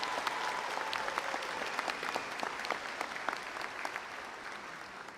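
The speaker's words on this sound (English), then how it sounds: "Let's have another round of applause for Brian Gibbs for that exceptional job." Applause from an audience at a University of Houston-Victoria fall commencement ceremony: a sustained patter of many hands clapping at moderate distance, fairly soft, with no talking over it.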